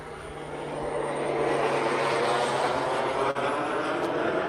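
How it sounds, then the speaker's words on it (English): An airplane passes overhead, a steady broadband engine roar that swells over the first second and then holds loud and continuous with no talk. "That's a beautiful sounding plane."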